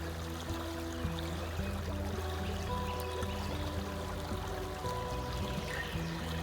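Water in a creek flows and trickles steadily in an outdoor setting, a continuous moderate burble with a low hum underneath and no talking.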